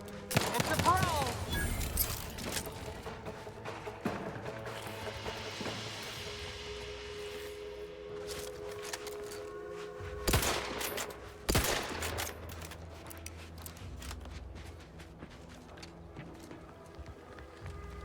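Shotgun blasts in the video game The Outer Worlds 2, a few sharp loud bangs spaced out among game music and effects, with some footstep-like clatter and a voice talking over parts.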